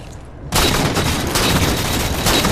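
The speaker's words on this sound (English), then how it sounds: "Throw a grenade to try and stop them pushing." Grenade blasts and gunfire in the video game Halo 4, with a sudden loud burst giving way to dense, sustained firing close up.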